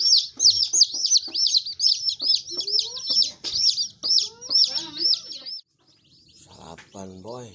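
Chickens cluck and squawk repeatedly up close in a steady rhythm, with soft thumps and rustling beneath, then a brief pause and more calls.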